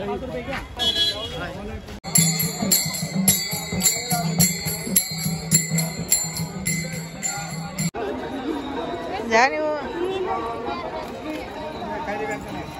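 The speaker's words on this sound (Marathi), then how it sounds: "सकाळची गर्दी आहे आणि समोर पाहत आहात तुम्ही मंदिर" Morning crowd at the Pandharpur temple, a busy murmur of many voices with scattered horn toots and music-like tones, a voice talking over it near the microphone.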